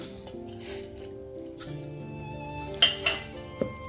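A spoon clinks a few times against a metal container while cumin is spooned in for a coriander, mint, green chilli and ginger chutney; sharp, close taps arrive near the end over a quiet kitchen background.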